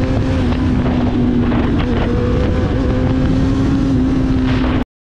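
A Honda CBR650R four-cylinder motorcycle with an Arrow exhaust roars at steady high revs amid wind noise, loud and continuous before cutting off abruptly at the end.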